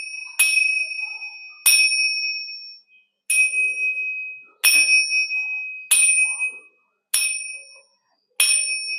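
Kartal, a pair of hand cymbals, struck seven times at a steady, unhurried pace with the thumb lifted so each bright metallic ding rings open and decays cleanly before the next, close and clear with no talking.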